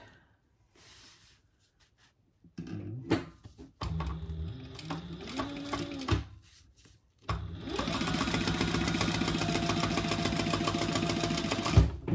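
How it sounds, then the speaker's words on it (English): A sewing machine top stitches a tote bag at 1/8 inch, starting with short, stop-and-go bursts and then settling into a long, loud, continuous run. "let's top stitch those, 1/8 of an inch"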